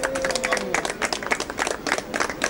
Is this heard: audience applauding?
yes